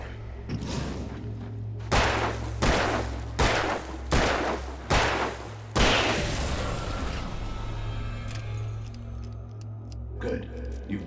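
Five or six heavy gunshots in the Alan Wake video game, spaced about a second apart, each a loud sharp crack with a decaying tail over a low steady drone, with sparse speech nearby.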